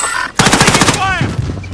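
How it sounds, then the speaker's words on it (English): Bursts of rapid automatic gunfire in a video game rattle out loudly for about half a second, followed by a whooshing sweep and scattered thuds. "I'm taking fire."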